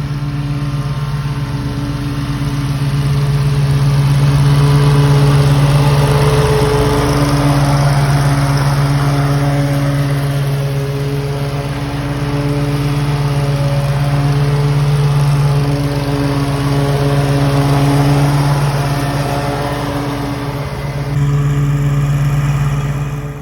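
A Hustler Surfer Pro 34 riding lawn mower with a 34-inch deck cutting grass while cross-cutting a property, its engine droning steadily and close throughout, with no talk.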